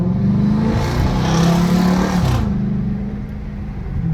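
A 2013 Chrysler 300 with a 5.7-litre Hemi V8, tuned past 400 horsepower, pulls hard under acceleration on a night drive in non-sport mode, a loud deep engine roar rising in pitch, then dropping off as it shifts.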